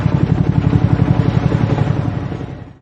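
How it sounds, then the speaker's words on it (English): An attack helicopter with loud, close rotor blades chopping in a fast steady rhythm over an engine drone, fading slightly before an abrupt end. "Attack helicopter."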